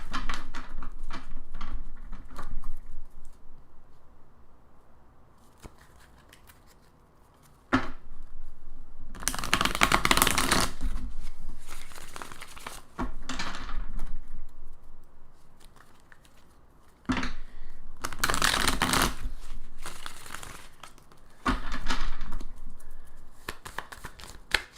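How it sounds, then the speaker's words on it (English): Tarot cards are shuffled in several bursts of crisp riffling and flapping, separated by quieter stretches of soft handling, all close by. "I'll do a couple little shuffles."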